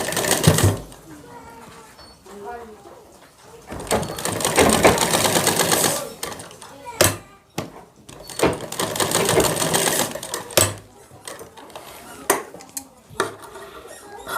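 Electric sewing machine stitching the seams of a shirt, running in bursts of rapid mechanical whirring with short pauses and clicks between, close and fairly loud, with faint handling noises.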